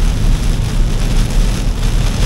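Heavy rain pours down on the road under a dark sky, a loud, dense, unbroken hiss of water hitting surfaces all around.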